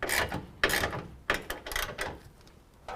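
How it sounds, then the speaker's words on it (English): A socket wrench ratcheting to tighten the bolts of an ICI Magnum rear bumper on a 2017 Chevy Silverado 2500, with short bursts of clicking separated by brief pauses, close and clear. "socket and wrench to tighten down the 2 larger bolts"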